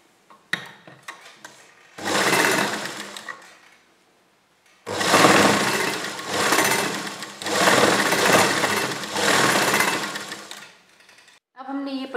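An electric sewing machine stitches a double-folded fabric border in several long whirring runs separated by pauses, with a little voice and handling noise at the start and end.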